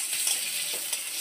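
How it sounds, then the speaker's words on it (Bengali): Onions frying in hot oil, a soft steady sizzle heard close up with faint crackles throughout the short stretch. "পেঁয়াজটা একটু ভাজা ভাজা হবে"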